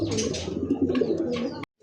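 A racing pigeon coos close by in a series of soft, throaty, rolling calls that stop abruptly, with no talking.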